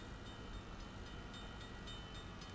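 A steady train-like rumble rolls on as a many-wheeled truck crosses rail tracks in Farming Simulator 19, a constant low roar with faint rhythmic clicks throughout.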